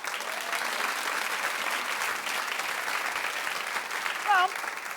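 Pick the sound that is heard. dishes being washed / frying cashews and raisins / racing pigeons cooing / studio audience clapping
studio audience clapping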